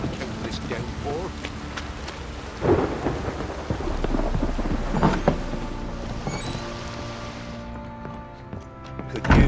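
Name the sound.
rain and thunderstorm in The Witcher 3 video game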